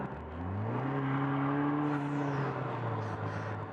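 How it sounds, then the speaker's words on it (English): The boosted 4-cylinder engine of a Vanderhall Carmel revs through its exhaust, pitch climbing and holding in a strong steady drone before easing off, with a brief whooshing hiss partway through. "the sound coming out of the exhaust is remarkable"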